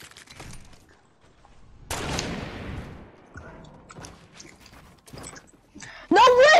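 Sniper rifle fire in a snipers-only video game match, a loud sharp report near two seconds with a decaying tail, among softer scattered game sounds and brief voices.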